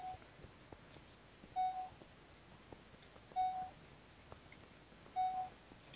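Three short electronic beeps sound at a steady, evenly spaced rhythm over a faint hiss in the Alien: Isolation video game.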